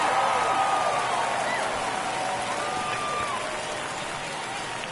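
A home crowd roars and cheers after a home run in MLB The Show 24, a loud sustained stadium din with faint whistles that slowly fades, no talk.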